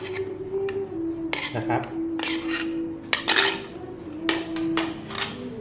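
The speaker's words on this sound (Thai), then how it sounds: "ผมจะโขลกรวมกันนิดนึง" A pestle pounds sour tomatoes together with other ingredients in a mortar for Thai nam prik ong chili paste, giving a run of sharp, irregular knocks, some in quick pairs, while someone speaks briefly.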